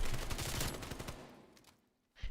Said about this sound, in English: as we see Void going in for extra gunfire tonight